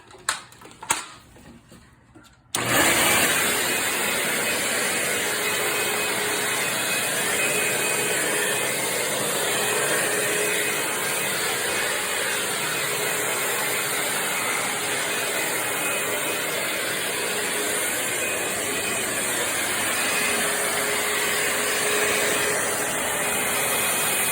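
A few faint clunks and handling noises, then a Dirt Devil Power Stick bagless stick vacuum cleaner switches on and runs with a steady, loud whine and rushing airflow for the rest.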